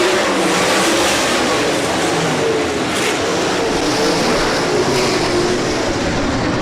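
Sprint cars roar at Rapid Speedway on a green-flag restart, a loud, dense wall of engine noise from a pack accelerating together, sustained throughout.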